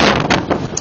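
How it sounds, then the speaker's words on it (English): A brief, loud rumble of wind buffeting the microphone, with gusty bursts. "It's even more windy than before"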